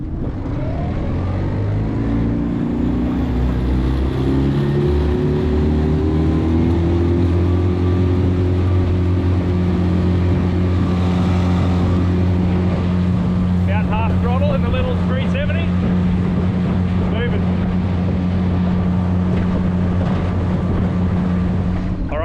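A Tohatsu 20hp EFI outboard boat motor idles with a steady low drone, then revs up in gear and grows louder as it accelerates, staying strong and continuous.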